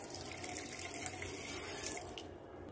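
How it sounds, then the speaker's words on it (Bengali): Water runs steadily from a tap over white and black mustard seeds being rinsed in a sink, a continuous close splashing wash that thins slightly near the end. "সরিষা জল দিয়ে ধুয়ে নিব।"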